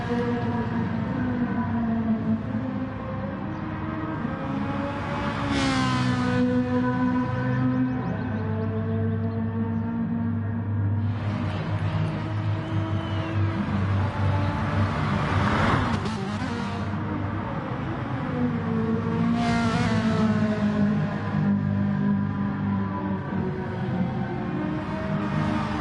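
Race cars in the GT Champions racing video game drive continuously, engine tones rising and falling through gear shifts with repeated rising whines, loud and steady throughout with no talk.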